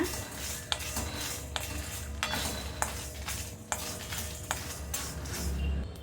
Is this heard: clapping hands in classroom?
no